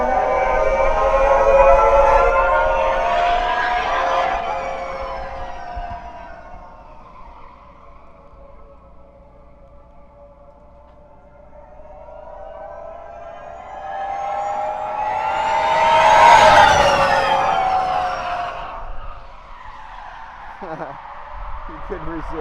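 A Legends race car roars past the camera twice at speed, each pass a loud engine howl that climbs and then drops in pitch before fading away.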